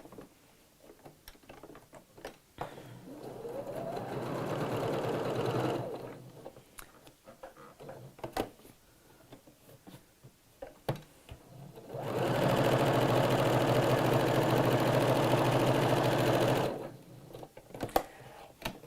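A sewing machine stitches down both sides of a ribbon on a fabric project in two clear bursts of fast, even whirring, each several seconds long, separated by quiet pauses with faint handling noises.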